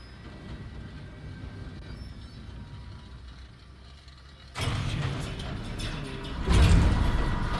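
A tram runs on rails in the Alan Wake video game: a low, steady rail rumble swells abruptly into a loud, close clatter of wheels and carriage noise, growing louder still near the end.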